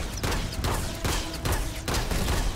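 Laser pistol fire in the Starfield space game comes as a rapid, dense run of loud sharp shots with short gaps, a steady burst of gunfire and no talking.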